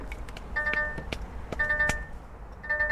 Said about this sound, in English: Sorry about the noise of the truck.